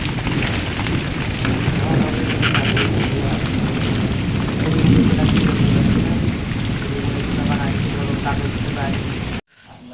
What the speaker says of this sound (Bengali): বৃষ্টিটা শুরু হয়েছে সবেই বৃষ্টির থেকে বেশি হচ্ছে ঝড় দেখো